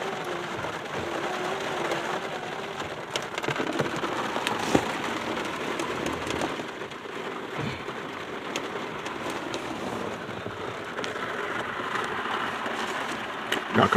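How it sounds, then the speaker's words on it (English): Rain falls steadily with wind, a constant broad hiss of drops with occasional bird calls faintly in the background and no talk. "Y'all could probably hear the rain."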